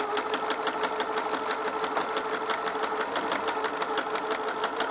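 A sewing machine stitches a seam through fleece and outer fabric for a dollhouse miniature sleeping bag, a steady, close, fast rhythmic whir running throughout with no talking.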